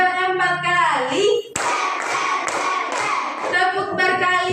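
In a classroom, a group of children claps their hands together in a short burst of about four firm claps, close and loud, with a teacher and children chanting around it.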